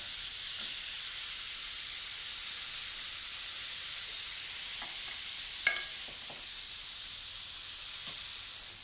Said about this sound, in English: I'm going to sear off these pork chops